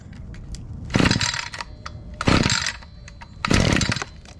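Echo SRM 2620T string trimmer engine on choke, fired with three separate loud pull-start bursts about a second and a quarter apart, each sputtering briefly and dying away between attempts, with no talking.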